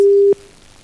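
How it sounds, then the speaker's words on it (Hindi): Telephone ringing tone on an outgoing call, a loud steady electronic tone that cuts off abruptly after a third of a second, followed by a brief fainter blip and quiet line hiss. "रिंग जा रही है"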